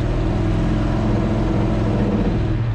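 A large off-road wrecker truck drives through sand dunes, its engine a loud, steady, close drone with a slight rise in revs and no voices.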